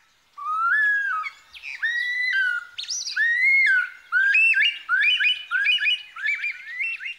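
A male superb lyrebird in Victoria's Dandenong Ranges calls close and clear, pouring out a rapid string of varied whistles, squawks and chirping mimicry in short repeated phrases against a silent background.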